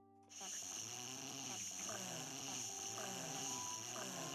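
A sleeping beaver snoring in the video game Timberborn, heard as a steady, close game sound with soft rhythmic breaths over a constant bright ambient layer, with no talking.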